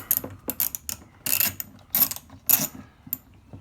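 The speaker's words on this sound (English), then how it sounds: "Get these screws undone" A ratchet wrench undoing the headlight screws on a Dodge Magnum clicks in short, sharp bursts, each a quick run of pawl clicks separated by brief pauses, close and clear with no talking.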